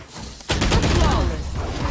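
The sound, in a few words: gunfire in the video game Valorant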